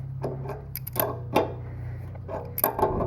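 A wrench working loose a bolt on a lawnmower being converted to a brush mower: close mechanical clicks and ratcheting scrapes in irregular bursts over a steady low hum.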